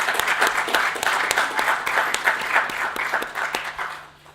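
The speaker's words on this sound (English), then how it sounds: "Give another round of applause for our first two speakers." Summit audience in a library room applauding speakers with a full, steady patter of many hands and a few crisp claps above it. The clapping tapers off and fades in the final half second.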